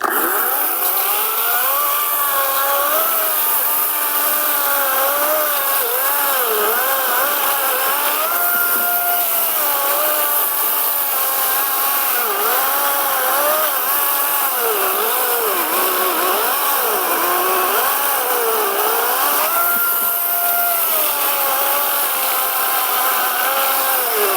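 A Start Pro SCS/B-21/16 cordless saw whines steadily for a long stretch, its pitch wavering up and down as it bites into a thick wooden pole, loud and close.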